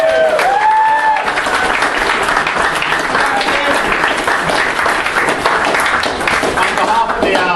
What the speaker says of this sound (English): can everyone please give him a big round of applause?